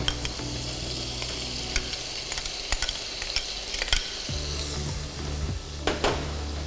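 Sweet pepper, tomato, chopped chive and parsley sauté in a pan with a steady close sizzle, broken by scraping stirs and a few sharp utensil clicks against the pan.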